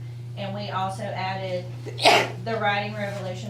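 A single sharp sneeze bursts out from someone in the room during a Caldwell Parish School Board meeting, heard over a man's ongoing speech and a steady low hum.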